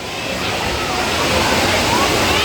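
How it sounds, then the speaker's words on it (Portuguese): A waterfall roars steadily nearby, a dense continuous rush of falling water that fills the whole clip. "Cachoeira passando ali do lado, ó"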